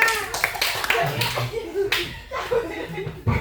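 A class claps hands during a microteaching session, irregular bursts of close clapping mixed with voices and a little laughter, fading and picking up again.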